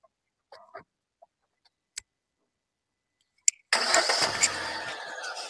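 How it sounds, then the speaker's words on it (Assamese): A 2016 Hyundai Grand i10 sits quiet through a few small clicks and a key tick, then its engine cranks and catches abruptly, settling into a steady, close idle. "ষ্টাৰ্টটো দিবাচোন একবাৰ।"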